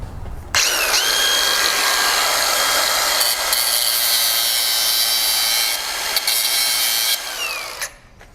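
An angle grinder cuts into a part of a YCF 212 pit bike, a loud, steady high-pitched whine held for about seven seconds with slight pitch shifts, starting abruptly and winding down at the end.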